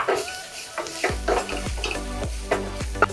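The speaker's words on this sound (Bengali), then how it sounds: "গাজরটা দিয়ে এই মশলার সাথে এক মিনিট মতন আমি কষিয়ে নিলাম" Grated carrot is sautéed with Kashmiri chili powder and spices for papad dolma, with a spoon scraping the pan in repeated strokes over a low sizzle, close and fairly loud, no speech.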